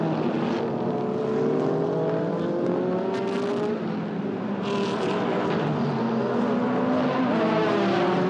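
Lamborghini Super Trofeo race cars lapping the Magny-Cours circuit, engines droning steadily at mid distance, with pitch rising and falling as cars pass and the tone shifting briefly with gear changes.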